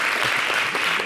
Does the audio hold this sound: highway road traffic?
no